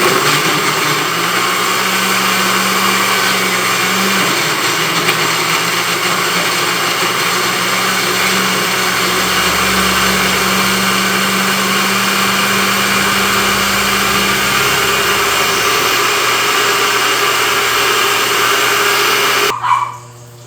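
Blender purees tomato in a loud, steady whir that runs unbroken for about nineteen seconds, then cuts off abruptly near the end.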